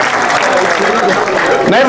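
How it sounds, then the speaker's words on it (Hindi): Audience applause welcoming the village head (sarpanch) at a community service association program, steady dense clapping filling the short stretch while a voice speaks over it. "आप सभी जोरदार ताली बजाकर उनका स्वागत करेंगे"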